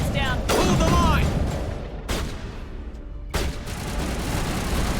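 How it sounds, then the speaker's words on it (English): Turrets fire in Mass Effect Legendary Edition, a dense, loud barrage of gunfire and booms with sharp bursts standing out over continuous battle noise. "there's turrets and stuff too"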